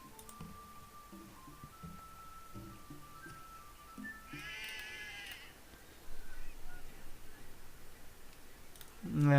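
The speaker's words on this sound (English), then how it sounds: "Yeah, lots of sheep." Sheep bleating in the strategy game Civilization 4, a few short faint calls early on, followed by a brighter burst and rising game sounds, with someone talking over the top.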